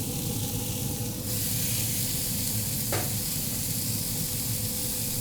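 Onions hitting a griddle slicked with bacon grease give a steady, close sizzle and hiss, with a brief sharper scrape near the three-second mark and no talking.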